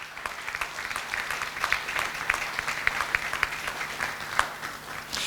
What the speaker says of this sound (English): So, let's clap for our bishop as he goes for his service.